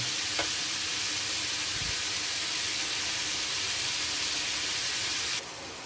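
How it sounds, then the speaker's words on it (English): Minced beef browning in a frying pan for spaghetti bolognese, a loud, steady close-up sizzle with a couple of faint clicks and a soft knock, carrying on alone until it drops slightly at the very end. "You want to carry on browning this until all the liquid has disappeared, all the water."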